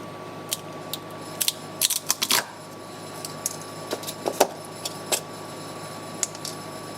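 A cutting tool snips at a wire tie with sharp, close clicks and snaps, scattered irregularly over a faint steady hum, with a tight cluster of crisp cuts in the middle.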